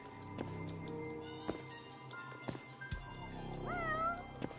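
A cat in the video game Judgement meows several times, short and fairly close, over a faint game background, with a rising, wavering cry near the end.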